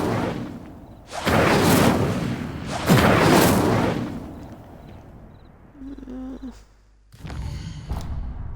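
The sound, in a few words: Incendio fire spell cast in the Hogwarts Legacy video game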